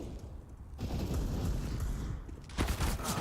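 Gunfire in a Counter-Strike match at ESL Pro League, Virtus.Pro against FURIA: a dense, rumbling stretch of shots fills the clip, with a sharper flurry of bursts toward the end.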